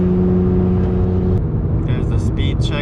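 A Porsche 911 GT3 fitted with a SOUL exhaust rumbles under a steady droning engine tone while driving, with a voice talking over it in the second half.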